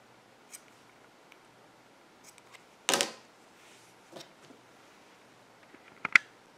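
Scissors snip through crochet yarn in one crisp cut amid a quiet room, surrounded by a few faint ticks and small handling clicks before and after.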